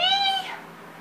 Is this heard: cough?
no